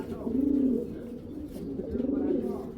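Domestic racing pigeons coo in two low, rolling bursts, close and fairly loud, from a loft of breeds including Giribaz, khaki and red-grained birds, with no talk over them.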